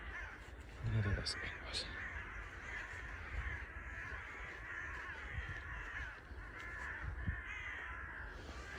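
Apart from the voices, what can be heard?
flock of crows cawing in a forest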